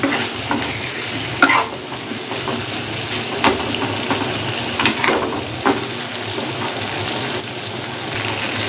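Potato fry in plenty of oil is mixed with a spoon, giving scattered scraping stirs and clatters over a soft, steady frying sizzle, near and without talk.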